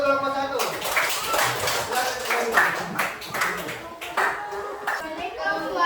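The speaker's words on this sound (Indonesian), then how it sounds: "Tepuk tangan dulu untuk kelompok 1." A class of children claps for a presenting group in a school classroom, a short burst of uneven clapping mixed with children's voices and chatter throughout.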